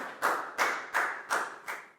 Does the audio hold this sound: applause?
yes